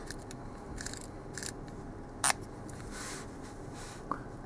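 Mechanism of a Hasselblad Distagon CF 40mm F4 FLE T* lens working, its shutter and aperture giving a few dry close clicks and one sharp snap amid quiet handling noise.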